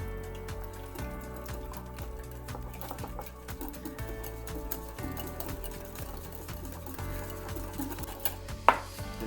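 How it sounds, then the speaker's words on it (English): Hand whisk beating whipping cream in a bowl for homemade scones and afternoon tea, a steady rapid rhythmic clatter of wire against the bowl running throughout, close and moderately loud, with one sharper knock near the end. "I'm using a whisk and not a beater"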